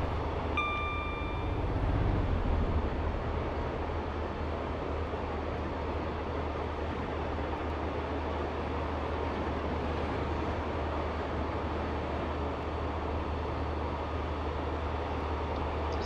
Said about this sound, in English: the container train just left